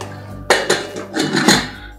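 A metal pressure cooker lid is set in place and closed on a kitchen stove, giving several sharp clanks and a scraping metallic rattle, close and loud, over a low background hum.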